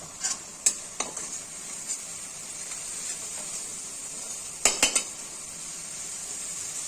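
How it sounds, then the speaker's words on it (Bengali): Onion, turmeric and salt being sautéed in a pan for restaurant-style masala bhindi: a faint, steady sizzle with a few sharp spatula scrapes and taps against the pan, close up and without speech. "এভাবে ছাঁচা করে করে কষতে হবে, তাহলে পেঁয়াজটা সুন্দর গলে যাবে।"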